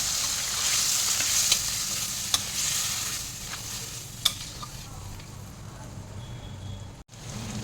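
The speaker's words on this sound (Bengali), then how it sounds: "এবারে সামান্য জল দিয়ে ভালো করে মশলাটা কষিয়ে নেব।" Spice paste of ground coriander, cumin, ginger and green chili frying in a pan with a splash of water, a soft continuous sizzle with occasional sharp clicks of stirring and a brief gap near the end.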